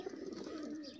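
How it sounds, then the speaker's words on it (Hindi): Pigeons coo in a short, soft, low burbling phrase at close range, with no talk over it. "शौकत बुदरा के कबूतर हैं जी"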